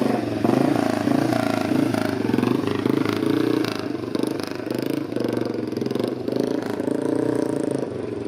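A Manx racing motorcycle from the 1950s–60s runs at a concours show, its engine holding a loud, steady, throbbing idle with slight rises in revs throughout.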